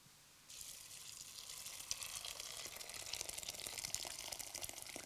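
Hot water poured over black-eyed beans soaked overnight, a steady splashing stream that starts suddenly and keeps running evenly, close and moderately loud.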